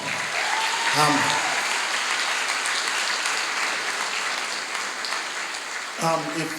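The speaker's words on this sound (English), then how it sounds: "Let's give another round of applause." Sustained applause from a graduation audience at an African American graduation ceremony for Peralta Colleges, steady broadband clapping filling the room for several seconds, with a couple of brief voiced shouts or cheers rising above it.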